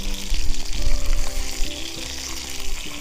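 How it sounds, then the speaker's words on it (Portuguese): Meat searing in very hot olive oil, a loud, close, continuous sizzle and spatter of frying with some bubbling, with no voices over it. "Depois do azeite estar bem quente, vamos juntar as carnes. Vamos deixar a carne então tostar bastante bem."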